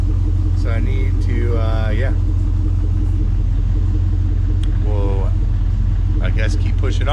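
A 1973 Chevrolet K5 Blazer engine idles with a loud, steady low rumble close by, while someone talks briefly over it.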